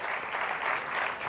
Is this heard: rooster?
no